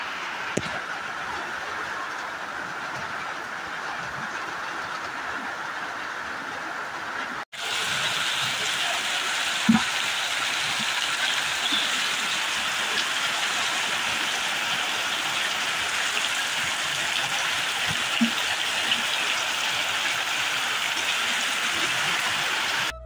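Storm rain falling outside a home, a steady dense hiss of rainfall that rises noticeably louder after a brief dip, with a few scattered knocks and no talk.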